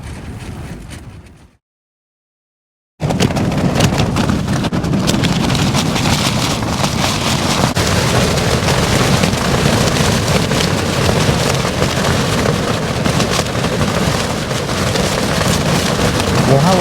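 Ultralight tent shell buffeted by wind and rain at night during a Peak District wild camp, a steady loud roaring flap and patter that runs on without pause after a brief drop-out near the start.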